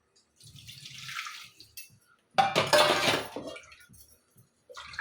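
Water poured into a pot of basale leaf sambar, two splashing bursts, the second louder and fuller, with small clinks and drips between and after.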